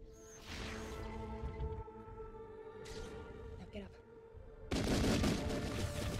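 Gunfire aimed at Neo in The Matrix: Path of Neo on PS2, heard as bursts of shots and crashing impacts over tonal game music, ending in a loud, dense volley, with someone talking over it.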